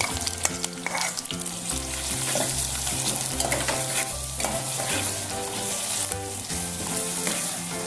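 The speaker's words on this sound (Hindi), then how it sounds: "एक खाने का चम्मच लहसुन अदरक का पेस्ट इसमें डालेंगे हम" Steady, loud sizzling from a hot pan as a spoonful of garlic-ginger paste fries with softened onions, with rhythmic stirring and scraping of a spoon throughout; no voices.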